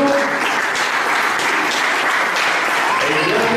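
Strong, steady applause from an award ceremony audience welcoming guests to the head table at a football club supporters' prize event, dense and continuous throughout without a break.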